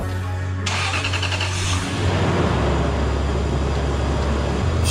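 A 1998–2000 Lexus LS400 (UCF20) V8 fitted with a Godzilla Raceworks cold air intake cranks, fires up and settles into a loud, steady, close-up idle with a deep low-pitched drone.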